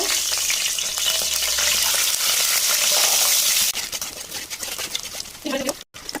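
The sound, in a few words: eggs frying in oil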